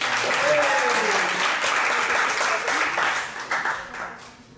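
A crowd at a kickboxing event in The Hague applauds the fighters in the red and blue corners. The clapping is loud and sustained, an announcer's voice talks over it, and it fades toward the end.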